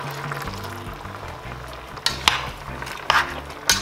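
White wine poured into a pot of peppers, chili and seasoning for mushroom rice, a sizzle under a low hum with sharp metallic clinks of utensils against the pot.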